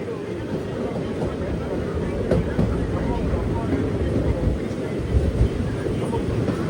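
Steady low rumble and rattle of a train in motion between Tirunelveli and Courtallam, heard from inside, with a voice talking now and then over the noise.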